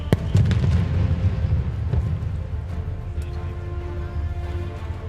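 Underwater explosive device detonating during a Navy SEAL special forces demonstration in downtown Tampa: a sharp initial boom followed by a deep, rumbling low roar that lingers for several seconds, with a few fainter thuds, heard alone without talk.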